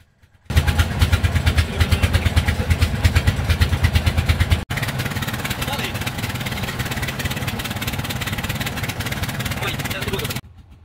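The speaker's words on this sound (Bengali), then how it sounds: "আমাদের নৌকাটি ছেড়ে দিয়েছে" A motor boat engine drones loud and steady while the boat runs down the middle of a river toward the Sundarbans, with a constant rattling hum that cuts briefly once midway.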